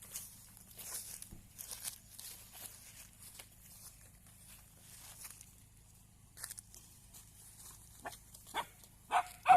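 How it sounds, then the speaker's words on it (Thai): A dog barks at a cow at a forest temple in rural Nakhon Phanom, Thailand, giving scattered sharp barks that cluster and grow louder toward the end over a quiet, faintly humming background. "งัวกับหมานะครับเอาเอากันแล้วนะครับ เห่ากันแล้วนะครับ"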